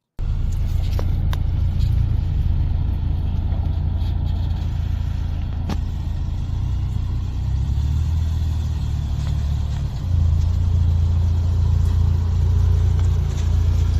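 Ford Bronco driving off-road, a steady loud engine rumble and road noise running continuously with a slight shift in tone near the end, no talk.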